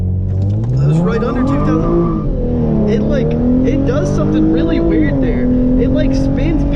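A Hyundai Genesis Coupe with the 3.8 engine revs loudly and climbs in pitch on a hard launch, then sags and recovers as the wheels spin and hop and power cuts out. Someone talks over it throughout.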